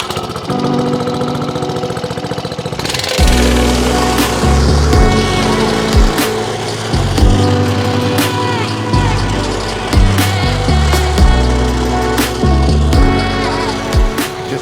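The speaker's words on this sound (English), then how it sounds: "I'm just about to compact it with the whacker plate" A plate compactor (whacker plate) compacts a leveled sand base on a house build, its engine chugging loudly up close with a rapid, rattling, thumping vibration that pulses unevenly throughout.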